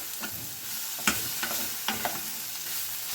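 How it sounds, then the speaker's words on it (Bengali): Soft-cooked vegetables for a yogurt shukto are stirred and beaten in a pan with very little oil. A low sizzle runs under several distinct scraping strokes at irregular intervals, with no talking. "এটা ভালো করে আমি ফেটিয়ে নিচ্ছি"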